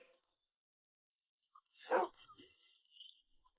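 A tamed wolf in Minecraft gives one short, close bark in an otherwise quiet stretch, followed by a few faint, softer sounds.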